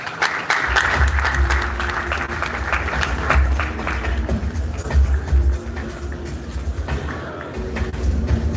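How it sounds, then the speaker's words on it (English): An audience at an FX Millionaire Expo event breaks into sustained applause, dense clapping that continues steadily and loudly throughout. "Ladies and gentlemen, one more time, a round of applause for them."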